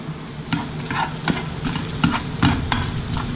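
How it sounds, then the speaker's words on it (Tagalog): Garlic and butter fry in a pan for a salmon steak sauce, with steady close sizzling broken by several clinks and scrapes of a utensil stirring. "So let's cook the garlic until it's golden brown."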